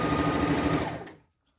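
Overlocker stitching stretchy jersey fabric for a headband, a fast steady mechanical whir running for about a second before cutting off into silence.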